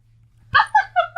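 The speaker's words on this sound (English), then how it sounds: "Did he just bark at you?" A dog barks several times in quick succession, close and fairly loud, each bark with a whiny, voice-like quality and short gaps between them.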